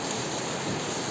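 Steady rain falls during an outdoor school gathering, a dense, even hiss of drops drumming on surfaces that holds at constant loudness throughout, with no voices over it.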